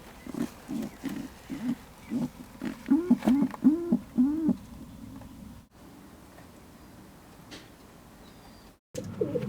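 Pigeons coo and hoot in a series of soft, low, rounded calls repeating rhythmically for several seconds, fairly close, then fading into quiet background rustle.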